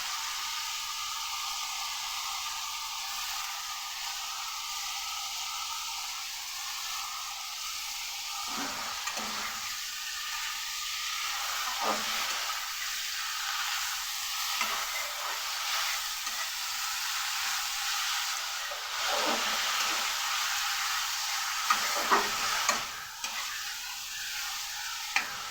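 Washed, salted and squeezed pumpkin greens hit hot spices in a pan. A steady, close sizzle and hiss runs throughout, broken by repeated scraping stirs.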